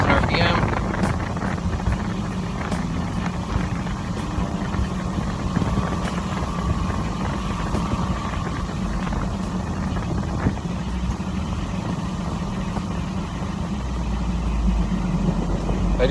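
A 2003 Ford Thunderbird engine is held at a steady raised idle around 2,000 RPM, a continuous close hum with some wind noise, while a person talks over it.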